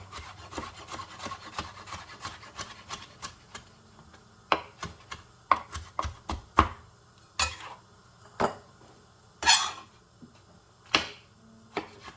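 A knife cuts ripe tomatoes into slices on a cutting board, making a series of crisp, uneven taps and slicing strokes up close, some clustered quickly and others spaced apart, with no talking.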